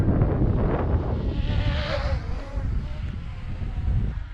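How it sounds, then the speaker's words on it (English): Wind rushing steadily across a small foldable camera drone in flight outdoors, a breathy broadband whoosh with a faint motor whine drifting through, moderately loud and continuous. "Ooh, got a bit of a breeze going here."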